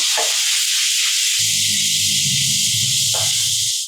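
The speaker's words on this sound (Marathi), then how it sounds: "त्यामध्ये घालायचं एक चमचा आलं लसूणची पेस्ट आणि ती सुद्धा अशी चांगली परतून घ्यायची" A spoonful of ginger-garlic paste sautés in a pan with browned onions, producing a loud, continuous close hiss of sizzling, with a low hum underneath during the latter half.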